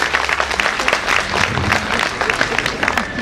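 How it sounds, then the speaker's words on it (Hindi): Audience at a Gita Jayanti celebration breaks into loud, sustained applause to honor someone, dense clapping filling the hall steadily with a faint murmur of voices underneath. "जोरदार ताली बजा करके उनका अभिनंदन और"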